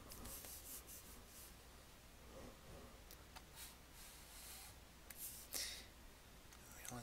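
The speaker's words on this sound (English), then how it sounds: "Let's go ahead and draw a normal curve." Pen or marker scratching and rubbing across a surface while a normal curve is sketched by hand, a steady close scribble with brief strokes and taps and no talking.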